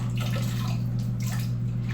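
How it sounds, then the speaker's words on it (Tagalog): Water pours and splashes in a bathroom being cleaned, a steady gurgling stream with a constant low hum underneath. "Dito naman ay medyo mild lang ang pagbuhos ko dito ng tubig"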